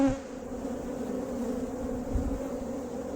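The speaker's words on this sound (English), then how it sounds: "Got a lot of good young bees on it too." A frame covered in young honey bees hums loudly during a hive split, a thick, steady close-up drone with small swells and no voices.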